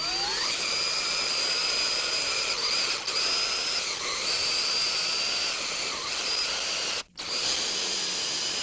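A drill bit grinds into a hardened wheel lock on a Fiat 500, giving a loud, sustained high-pitched squeal that wavers slightly and cuts out for a split second near the end.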